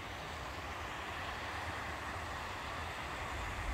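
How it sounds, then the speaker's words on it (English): A river rushes in a continuous, even broadband wash, steady and moderately close with no voices. "There's this really, really nice, soothing river here."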